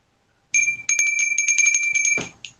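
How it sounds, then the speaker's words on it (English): A bell is rung, giving a bright ringing tone that starts abruptly, sustains with a few repeated strikes, then stops and rings once more briefly at the end. "you can ring the bell now"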